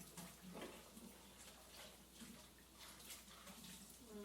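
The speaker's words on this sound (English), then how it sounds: "Wash my hands here." Tap water runs steadily into a sink as hands are washed beneath it, a soft continuous splashing with small shifts in flow, quiet and close in a home kitchen.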